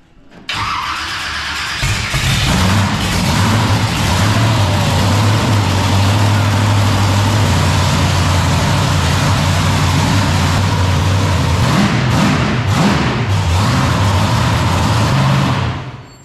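A supercharged truck engine runs loud and close, a steady heavy rumble with a rising whine that holds for most of the stretch before cutting off at the end.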